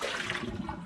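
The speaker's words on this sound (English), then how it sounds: "Drop out this old water." Old rinse water from wet-sanding faded headlights sloshes and pours out of a container in one continuous splash, close and fairly loud, with no talking.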